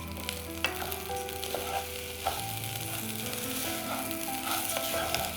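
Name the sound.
stirring rice and peas frying in oil and onion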